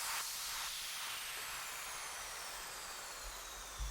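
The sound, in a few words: sweep effect with movement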